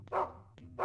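A dog in the survival horror video game Rule of Rose barks twice in quick succession, short gruff woofs heard fairly close with no speech over them.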